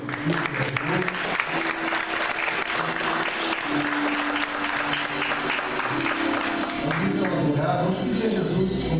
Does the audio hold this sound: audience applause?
yes